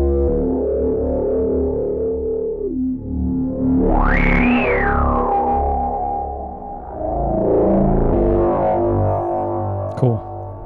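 Bass synth patch run through a Vhikk X filter module, a loud continuous distorted drone with a filter sweep rising sharply and falling back, then settling into a steady tone, ending with a brief click.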